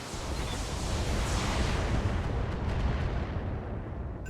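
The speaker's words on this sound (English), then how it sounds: "Firing all weapons." A BattleTech mech unloads all its weapons at once in the video game, a dense roaring barrage of blasts and rumble that stays loud and continuous before thinning slightly at the end.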